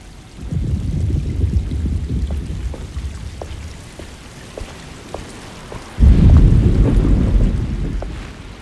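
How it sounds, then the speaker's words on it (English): Rain falls steadily through a thunderstorm in the video game Alone in the Dark, broken by scattered drips and a loud rumble of thunder rolling in near the end. "Just keeping an eye out for the storm."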